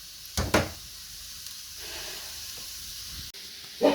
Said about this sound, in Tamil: அரிசியையும் போட்டு வதக்கும். ஒரு 10 நிமிஷம் வதக்கும்.